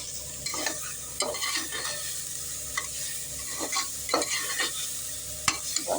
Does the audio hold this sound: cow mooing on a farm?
no